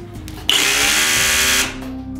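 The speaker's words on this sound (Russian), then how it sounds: "Сверление с ударом." In hammer drilling mode, a Crown cordless rotary hammer starts abruptly and runs with a loud, close, steady whine for about a second before spinning down.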